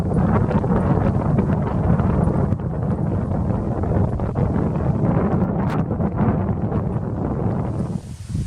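Strong wind gusts of about 22 mph batter the microphone in a steady, rumbling roar that barely lets up, loud and close throughout, in a forest by a lake.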